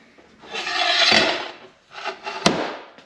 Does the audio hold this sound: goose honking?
no